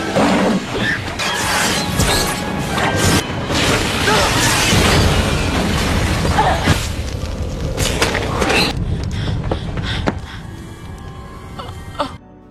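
An explosion from a Final Destination 1 film scene bursts out amid crashing, smashing debris and chaotic effects, loud and dense, with scattered voices and a faint rumbling tail as it settles.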